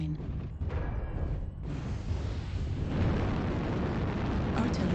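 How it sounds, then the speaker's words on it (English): Artillery strike explosions in MechWarrior Online, a rumbling series of loud booms building into a sustained roar. "Artillery strike activated."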